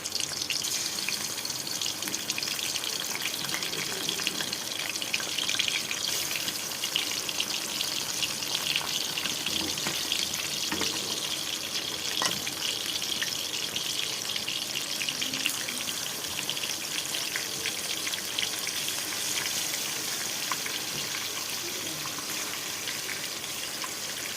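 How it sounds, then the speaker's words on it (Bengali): Fish sizzles steadily in hot oil, a continuous close hiss and crackle holding at an even level for a long stretch with faint spits throughout. "বন্ধুরা তেলটা গরম হয়ে গেছে দিয়ে দিচ্ছি মাছটা দিয়ে দিচ্ছি"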